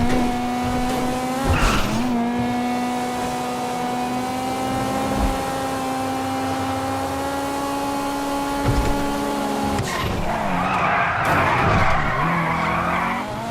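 A car in GTA Online revs and drives with a rising, steady engine whine, broken by sharp tire skids near the start, middle and a long squealing slide toward the end, loud and close with no talking.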